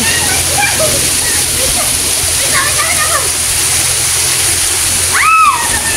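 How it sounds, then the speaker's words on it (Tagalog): Dikisit Falls in Aurora Province: a loud, constant broadband rush of falling water fills the whole stretch, with people's voices faint and partly buried beneath it. "Andito na po kami sa Dikisit Falls. Ayan po yung falls."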